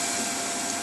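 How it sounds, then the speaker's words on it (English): A vacuum cleaner runs steadily with a constant broadband whine and roar, close and loud, with no other sounds. "Let's turn off the vacuum"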